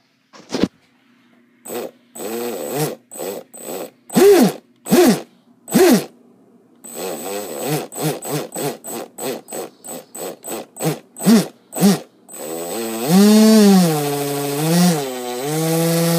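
An RC jet boat with a Graupner jet drive revs in a string of short, loud bursts, then holds a longer wavering whine that rises and falls before cutting off, with no talking.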